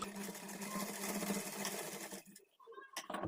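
A sewing machine runs close and fast, stitching a folded hemming strip on a blouse in a steady buzzing run that stops abruptly near the end, followed by brief handling noises.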